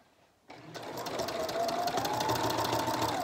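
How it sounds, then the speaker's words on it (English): A sewing machine stitches a shawl collar seam at a 3/8 inch seam allowance. It starts after a quiet moment and settles into a steady, close, whirring run. "So just slowly sew to continue using a 3/8 inch seam allowance."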